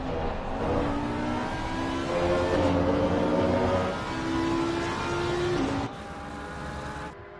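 GT3 and GT4 race cars at Imola in Assetto Corsa Competizione, engines droning and shifting pitch as they run close together, a steady loud racing roar with a Porsche among them, no talk.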